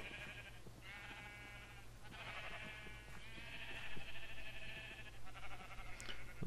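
Sheep in the Minecraft video game bleat several times in a row, each call a clear, wavering cry, loud and close, growing more frequent toward the end over a low steady hum.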